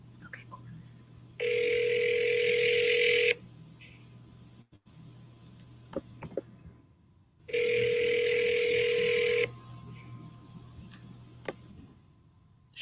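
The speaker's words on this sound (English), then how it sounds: "I'm dialing." A telephone is dialed, giving two steady electronic tones about two seconds long, separated by a pause and sparse clicks, heard fairly close against a low background hum.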